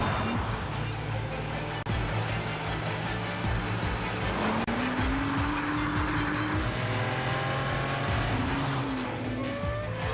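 A 1,700-kilogram Nissan GT-R supercar accelerates hard with a loud, close engine roar, climbing through the revs with audible gear changes and some tire noise, filling the whole stretch without talk.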